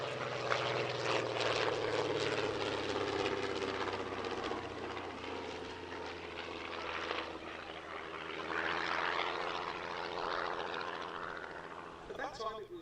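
Comper Hawk Speed Six racing monoplane with a 200 horsepower Gipsy engine, its propeller and engine droning steadily and fairly loud at an airshow, swelling slightly near the middle and end amid a faint outdoor crowd.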